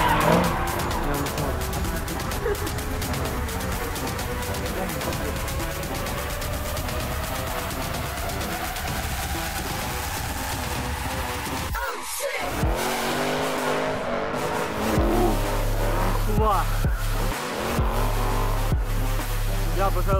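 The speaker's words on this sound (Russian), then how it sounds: "я обожаю дрифт." A Toyota GT86 and a Nissan Silvia S14 drift near a closed skate park, with a continuous loud engine drone and rising revs, tyre screech, and a brief dropout followed by a lower idling rumble.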